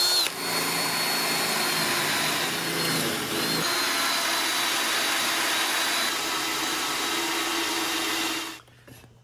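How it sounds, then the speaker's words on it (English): A drill bores through two pieces of aluminum and a piece of steel during a golf cart battery install, giving a loud, steady whine for about eight seconds before it stops abruptly. "That one was a little tough to drill out."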